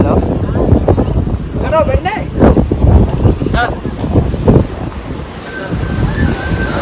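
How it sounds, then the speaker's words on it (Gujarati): Rough waves surge and strong wind buffets the microphone by the sea at Gomti Ghat, Dwarka, during a storm, a loud roaring wash with gusts, while a person talks over it. "જો કેવા મોજા ઉલ રહે"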